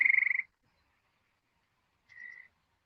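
A loud frog calls outdoors in a backyard, giving one rapid pulsing trill followed after a pause by a shorter, softer croak, with silence around each call.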